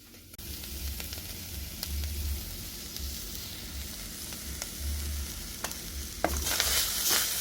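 Cumin seeds and spices are stirred in a pan over low heat, giving a steady soft sizzle with rhythmic scraping strokes of the spoon and a few light clicks, close and alone without talk.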